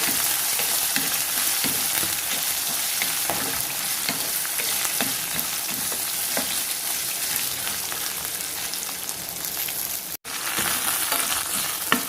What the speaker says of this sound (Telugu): రెండు నిమిషాలు వీటిని అంతా మనం వేయించుకోవాలి.